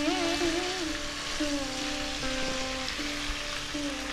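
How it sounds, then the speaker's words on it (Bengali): Potato, pumpkin and prawn pieces fry in a pan with a steady, close sizzle and crackle of oil, continuous throughout with a faint tonal hum in the background. "আলু, কুমড়ো, চিংড়ি মাছ ভাজা ভাজা হচ্ছে"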